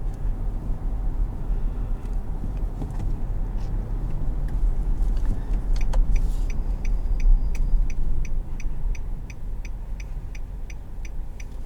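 A 2020 Nissan Armada SL with a 5.6-litre V8 runs as a low, steady engine hum, heard from inside the cabin with faint ticking clicks over it.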